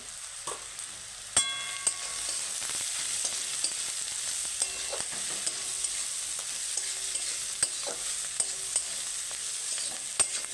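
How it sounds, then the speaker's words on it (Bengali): A spoon stirs bread pakora filling with cumin powder and salt frying in a pan, soft continuous sizzle punctuated by occasional clinks and scrapes, fairly quiet and steady. "আমি আরেকটু নাড়ি চাড়িয়ে নেবো"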